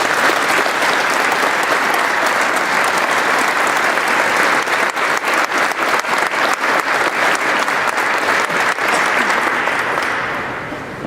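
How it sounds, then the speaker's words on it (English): A large audience applauds at a Vietnam Veterans Day ceremony in Georgia, loud dense clapping that holds steady for about ten seconds before starting to fade at the end. "Please give a round of applause for our distinguished"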